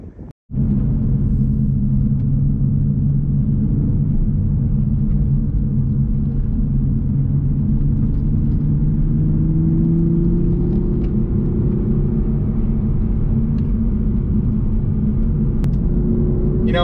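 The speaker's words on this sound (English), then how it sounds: "I can kind of keep pace in this Supra manual with the 382 horsepower straight six" A 2024 Toyota Supra with a manual gearbox and a 382-horsepower straight-six drives at pace, filling the cabin with a loud, steady engine drone and road rumble, while the pitch rises gradually under acceleration.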